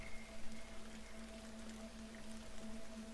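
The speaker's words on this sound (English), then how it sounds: "It's raining apparently." Rain falling in Fallout: New Vegas, a faint, dense hiss of drops with a low steady hum beneath, constant and quiet throughout.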